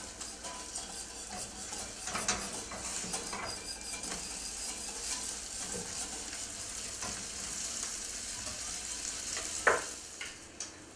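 French toast sizzles steadily in a frying pan, a continuous hiss broken by scattered utensil clicks and a sharper clatter near the end as the slices are flipped.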